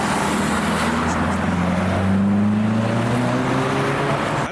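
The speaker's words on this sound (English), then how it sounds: "the yellow Stager with the R34 front-end conversion with the Time Attack Subaru" Modified cars at a night car meet, including a yellow Kia Stinger with an R34 front-end conversion and a Time Attack Subaru, drive past with loud, steady engine drone and rising exhaust tones, close by, with no talk.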